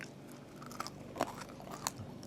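Crunchy food chewed close up, a few crisp bites and crunches standing out over quieter steady chewing, with no talking.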